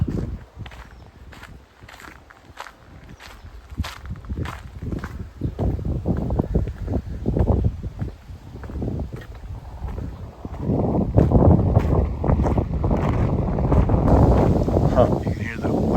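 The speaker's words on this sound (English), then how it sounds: "You can hear the wind going through the leaves" Wind moving through trees at an old 1800s mission beside Highway 1 with Spanish moss hanging in the branches, a steady rushing rustle of leaves that swells in the second half, mixed with footsteps and some nearby talk.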